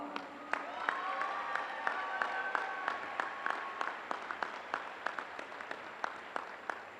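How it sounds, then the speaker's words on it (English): Audience applause at a college commencement ceremony comes as a faint, thin patter, with individual sharp claps standing out at a loose, regular pace. "Please give the platform guests a round of applause."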